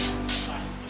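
Two short hissing bursts from a French jasmine scented room spray, close and loud, the second pump following about a quarter second after the first, with no talk.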